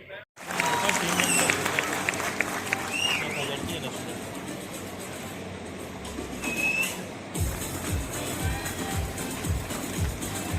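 Students clap loudly for a guest at a college orientation day, a dense, sustained wash of applause filling a hall, with crowd noise and a voice speaking over it partway through.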